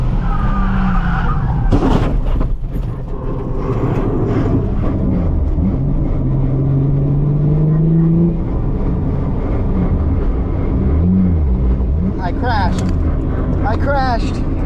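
A Nissan 350Z skids and crashes, heard from inside the car: loud, sustained engine and road roar with rising tire squeal and a sharp disturbance near the start, close and continuous throughout.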